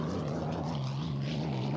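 Miller American hydroplane racing boat rounding the first turn of a 2-mile course in the 1986 Evansville heat, its engine a steady, loud droning roar with a low humming tone throughout, no voices over it.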